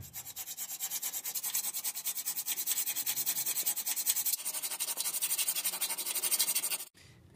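Sandpaper rubbing steadily against a bicycle part to true up the chainline, a fast continuous back-and-forth scraping that runs close and loud for about seven seconds, then stops abruptly.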